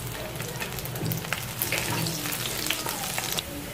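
Cumin and garlic sizzle steadily in hot oil in a kadhai, a continuous close crackling hiss with small pops and brief stirring scrapes throughout, no voices.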